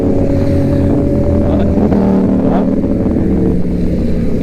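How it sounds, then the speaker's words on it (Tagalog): Big bike motorcycles roaring past on the Marilaque mountain highway, with a loud, steady engine drone and revving swell throughout, no talk. "Ririnig akong big bike na umiiyak."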